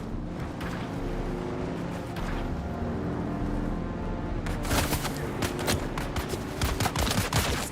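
Rapid gunfire in Dune Awakening rattles as a dense run of sharp, close shots over a droning vehicle engine, the shots growing louder and more frequent toward the end.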